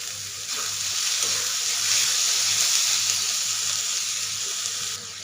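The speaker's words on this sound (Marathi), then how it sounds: "ते सुद्धा आपल्याला कांद्याबरोबर परतून घ्यायचं आहे" Onion and tomato for egg bhurji sauté in a pan with a loud, steady, close hiss of sizzling oil that holds evenly throughout.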